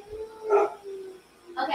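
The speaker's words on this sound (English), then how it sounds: "That's my dog." A pet dog barks twice at a distance indoors, two short woofs over a quiet background hum, while a person briefly speaks.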